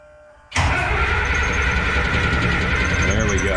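A Minneapolis Moline A4T 1600 diesel tractor cranks and catches abruptly. It settles into a loud, steady, close diesel idle that runs through to the end.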